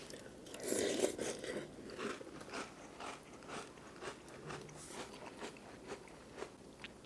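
Crunchy cereal eaten with a ramen spoon, giving repeated close crunching and chewing bites in an uneven rhythm, loudest near the start and then steady and moderate, with no talk.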